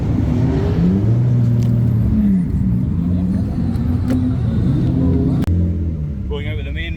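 A car drives with a steady engine rumble and road noise from inside the cabin, under continuous talking.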